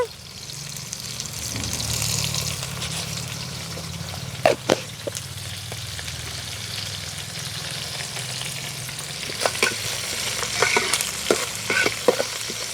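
Onions sizzle in a pan with a little salt, a steady moderate frying hiss broken by occasional stirring scrapes and clinks, with no voices.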